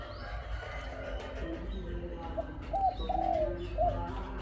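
A small dove, a tiny pet bird kept for its cooing call, gives a few soft, short coos that come through faintly against a steady hum of background noise.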